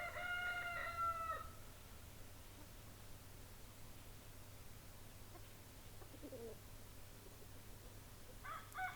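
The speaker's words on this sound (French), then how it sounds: "des coqs et des poules ont déclenché la caméra." Roosters crowing with hens nearby in a garden, one clear crow at the start and another faint one at the end over a steady low hum, the birds sounding fairly distant.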